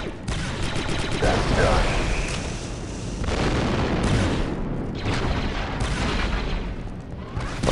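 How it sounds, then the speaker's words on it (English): Booming explosions from a thrown charge in the video game Star Wars: Republic Commando, loud and repeated amid gunfire and a dense battle din, with a brief spoken remark over the noise. "Throwing charge! Fire in the hole!"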